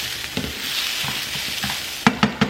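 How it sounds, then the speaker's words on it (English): Washed rice frying in oil in a pan, with a steady sizzle under scattered stirring scrapes and a few sharper knocks near the end. "I also washed my cup of rice, and now we're gonna add it to the oil."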